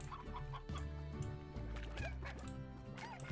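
Hens cluck repeatedly in the Slime Rancher video game, a steady run of close, loud clucks over game music and ambience, with no speech.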